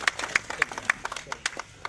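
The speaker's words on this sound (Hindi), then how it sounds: "इधर इधर ताली मारो।" A small group claps at a local party committee gathering, a short, uneven burst of sharp individual claps spaced apart rather than a full ovation, fairly close.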